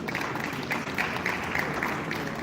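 Audience applause at a Lagos real estate marketplace conference, a steady wash of many hands clapping in a hall, even and sustained, with no voices over it.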